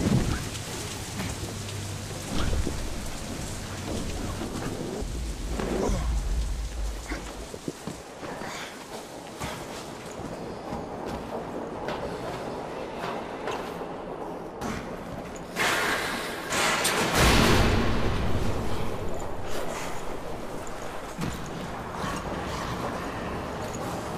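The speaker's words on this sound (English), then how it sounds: "Storm." Heavy rainstorm in the video game Deadlight, a dense, continuous patter of rain with deep rolling thunder swelling in several long rumbles, and occasional footsteps beneath the downpour.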